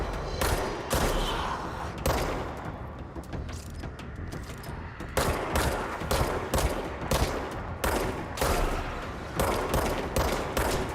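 Bursts of rapid gunfire in the game Control hammer against a bullet-proof barrier, loud and close, in repeated volleys separated by brief pauses, with no talking.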